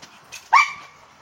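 A dog lets out one short, sharp bark up close, preceded by a faint yip and trailing into a brief whine, outdoors on a rocky mountainside with no speech.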